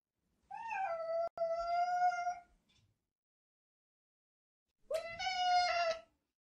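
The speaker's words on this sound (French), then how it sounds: "Le miaulement, c'est le bruit que fait le chat." Two drawn-out meows from a cat, close and clear, the first longer with a brief break, then a pause before a second shorter one.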